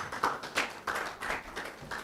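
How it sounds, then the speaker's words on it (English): Sparse, quiet clapping from a small audience at a media company showcase event, a handful of separate claps spread over two seconds, with a sharp tap at the end. "please, a round of applause"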